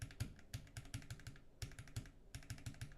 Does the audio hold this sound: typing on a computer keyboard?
yes